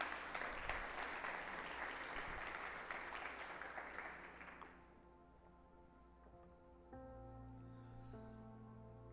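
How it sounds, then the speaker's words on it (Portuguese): A church congregation applauding during a sermon, with dense clapping for about four seconds that then fades out, followed by quiet sustained keyboard or organ tones. "Você pode aplaudir o Senhor por isso?"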